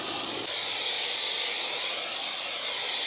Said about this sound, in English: Working with the steam is the best thing to do